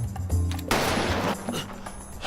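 Gunfire from a Squid Game episode: a sharp, loud shot rings out amid a short burst of cracks and rumble, with no talk.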